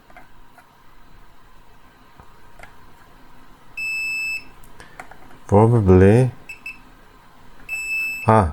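Two high electronic beeps, each lasting about a second, sound from a small Fluke AC voltage detector, with a person speaking briefly between them.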